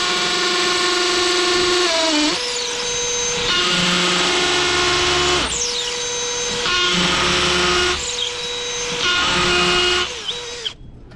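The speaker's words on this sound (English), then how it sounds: "this new drill, the only problem with it is, boy, you gotta be tightening that chuck up" A new power drill bores deep holes during a pool pump install, its motor whining loud and close in repeated long runs, each with a pitch sag and brief pause between bursts, the last run cutting off abruptly.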